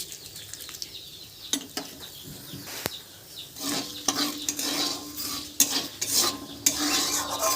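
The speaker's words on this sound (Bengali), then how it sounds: "সবজি ভাজার তেলের মধ্যেই ফোড়নের জন্য দিয়ে দেব 2টো শুকনো লঙ্কা, 2টো তেজপাতা আর 5 ফোড়ন।" Dried red chillies, bay leaves and five-spice seeds hit hot vegetable-frying oil, giving a crackling sizzle broken by sharp clanks and scrapes of a metal spoon against the pan, no talking.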